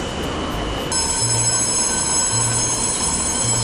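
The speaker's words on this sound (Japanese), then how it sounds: "電車に乗ります。" Inside a moving train in Taichung, Taiwan, a steady low rumble of the carriage runs throughout, joined after a moment by a sustained high ringing chime tone.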